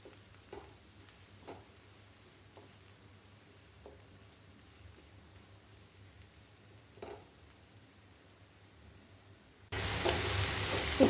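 Sour leaves and onion fry quietly in a pan, giving a low steady sizzle with occasional soft scrapes as they are stirred every so often, ending in a sudden louder burst of hiss.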